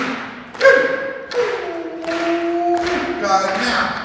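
A group of people stomp dance steps at a tribal gathering, producing several heavy rhythmic thuds while voices chant and call out over them.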